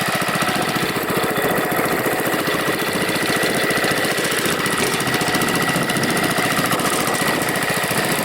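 A Gravely mower engine idles low through a loud, barely muffled exhaust, giving a steady, rapid chugging pulse that stays close and constant throughout.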